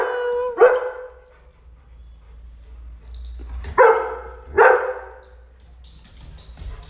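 A pet golden retriever, one of three at home, barks a few times in short, loud bursts with gaps between them.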